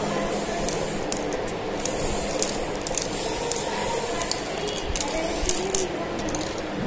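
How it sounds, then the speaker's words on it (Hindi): Silver spray paint hisses steadily from an aerosol can in a home decorating job, a continuous close, loud spray with small rattling bumps through it, no pauses. "तो उसको कलर करने के लिए स्प्रे मारना पड़ेगा।"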